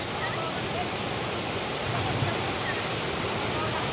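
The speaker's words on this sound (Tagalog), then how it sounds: "Talon." Waterfall at a river, a steady broadband rush of falling water filling the scene, close and continuous, with faint voices of people swimming nearby.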